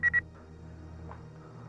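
Two short electronic dialing tones beep in quick succession, followed by quiet low background hum.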